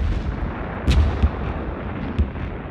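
World War I German artillery and mortar barrage along a long front line, heard as a continuous low rumble with a few heavier booming thuds breaking through, dense and distant-sounding with no voices.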